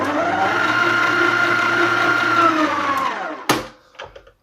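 An electric stand mixer kneads gluten-free bread roll dough, a steady close motor whir with a low hum that runs unbroken, then the motor cuts off and a couple of knocks follow.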